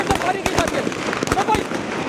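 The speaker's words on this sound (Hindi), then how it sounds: "अचानक चारों तरफ से फायरिंग शुरू हो जाती है और इस वक्त ये धमाका हुआ है" Real footage of an armed police operation against gang war in Lyari, Karachi in 2012: sharp, repeated gunshot cracks and bangs in a noisy, echoing street, with voices talking throughout.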